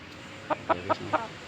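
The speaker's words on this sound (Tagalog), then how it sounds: "Ang aking alaga manok." A chicken clucks four times in a short, evenly spaced series, close by, over a faint steady background hum.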